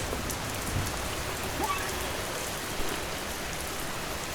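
Steady rain in the video game Schedule 1, a dense, even hiss of drops falling on surfaces that holds at the same level throughout, with no speech over it.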